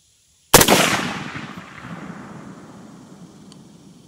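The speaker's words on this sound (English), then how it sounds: "I'm gonna take another shot just to confirm." A single sharp rifle shot fired outdoors during a red dot sight field test, loud and close, followed by a long fading echo.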